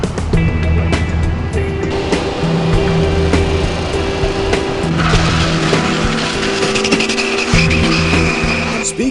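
Chevrolet four-wheel-drive diesel truck making 2,500 lb-ft of torque drag racing at a diesel shootout, its loud engine roaring with tire squeal and skidding, close and continuous throughout.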